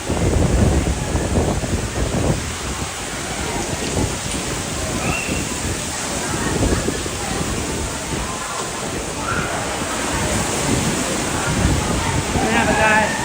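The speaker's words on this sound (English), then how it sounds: "There's another waterfall coming down from the top deck." Water pours down in a steady, rushing cascade from the top deck of the MSC Seashore cruise ship at sea, a continuous splashing wash with wind buffeting the microphone and people talking faintly.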